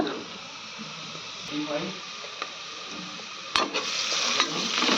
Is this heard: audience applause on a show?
no